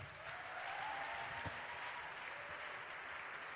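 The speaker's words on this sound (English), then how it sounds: "Can you clap louder and shout louder?" An audience at a national youth summit in Owerri claps, a steady wash of applause filling the hall at moderate loudness and holding evenly throughout, with no one speaking over it.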